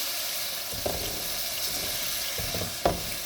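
Chicken broth sizzles steadily as it is poured into a hot pan while a spoon scrapes and stirs with a few soft knocks, close and continuous.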